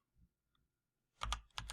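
Short bursts of typing on a computer keyboard, a quick cluster of key clicks after a near-silent pause, close and clear, with no talking.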